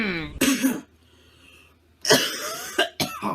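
One person coughs twice in short, harsh bursts, close to the microphone. A quiet gap separates the two coughs, and a further brief cough follows at the end.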